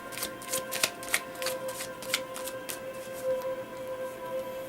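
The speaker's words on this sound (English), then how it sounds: "Sorry, I am shuffling on camera." Tarot cards are shuffled close up, soft repeated flicks and slaps in an uneven rhythm, quiet with no talking.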